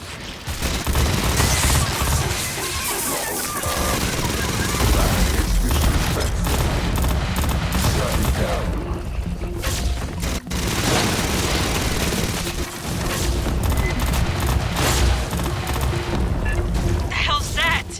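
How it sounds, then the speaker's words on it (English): Sentry guns in Aliens: Fireteam Elite fire continuously at range, a dense, loud fusillade of automatic gunfire with heavy booms running nearly unbroken for the whole stretch, with voices talking under the din. "Sentry guns. Shoot them from range."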